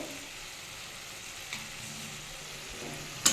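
Potatoes and spices sauté in a pan with a quiet, steady sizzle and faint stirring scrapes, ending in a sharp clink of utensil against metal.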